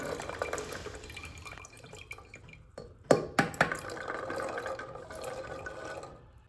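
Water is poured into a pot of soaked chickpeas, with a running splash and patter that rises and falls, followed by a few sharp clinks of the pot midway.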